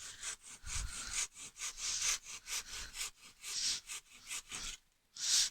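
Hand saw cutting through wood for a dovetail halving joint, a close, steady rhythm of rasping back-and-forth strokes, about a dozen in quick succession, pausing briefly before a final stroke.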